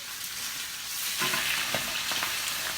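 A salmon darne is flipped in a frying pan and sizzles loudly in hot oil, a steady close hiss that swells as it turns, with a soft scrape and tap of the utensil.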